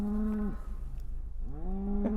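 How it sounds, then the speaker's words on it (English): A cow on a farm beside a cutting garden lets out two long, loud, nearby moos separated by a brief pause, with no talk. "one of those cows wants to let me know it's here"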